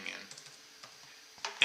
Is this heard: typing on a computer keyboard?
yes